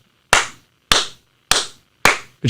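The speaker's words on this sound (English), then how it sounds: "I'm clapping for you" A man on a phone call claps his hands four times in a steady rhythm, each clap sharp, loud and close, with no talk in between.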